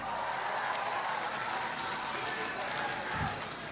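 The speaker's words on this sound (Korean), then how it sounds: "뜨거운 박수 부탁드립니다" A crowd at a Busan political rally for Lee Jae-myung claps warmly for a speaker, a steady wash of applause heard from some distance, fairly soft, with a brief low thump near the end.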